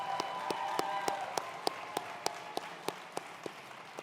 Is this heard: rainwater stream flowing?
no